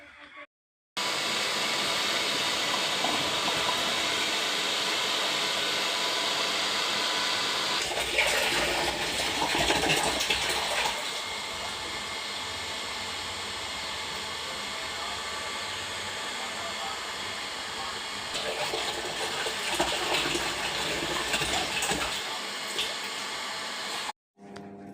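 Tap water gushes steadily into a plastic drum, a continuous rushing fill that swells in brief stronger surges, close and loud, at a household water point during a shortage.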